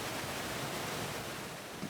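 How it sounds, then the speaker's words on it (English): A waterfall inside a cold, wet gorge cave system gives off a dense, continuous roar, broad and even with no breaks. The sound is loud and enveloping, and no voices are heard. "it started with 2 significant waterfalls"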